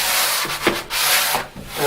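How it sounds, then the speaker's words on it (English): A medium sanding block rubs back and forth over semi-gloss latex paint on window trim, giving close, scratchy strokes with brief pauses between passes. "So we're going to take a sanding block,"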